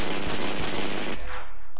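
Sniper gunfire in the Flee the Complex video game, a dense burst of rapid shots that runs for about a second before cutting off into quieter game background.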